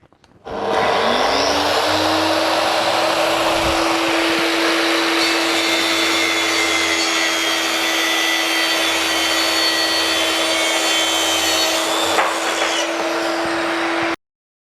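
A Makita SP6000 plunge circular saw runs on its guide rail through wood, spinning up sharply then holding a loud, steady high whine and roar for over ten seconds before cutting off abruptly.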